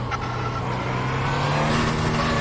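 An Audi R18 LMP1 race car in the iRacing simulator, driven in VR, gives off a steady low engine drone with a few constant tones that climb slightly as it speeds down a dip, without any talk.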